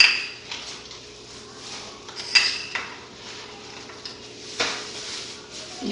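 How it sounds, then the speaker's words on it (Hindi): A metal cooking bowl holding chopped green chillies is scraped clean with a utensil, giving repeated rasping strokes and a few sharp clinks, close and steady throughout without any speech. "अच्छे से बर्तन को साफ करेंगे"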